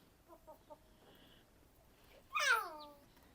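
A few soft clucks, then a loud, harmonic rooster call rising and falling for about a second, fairly close against a quiet village background.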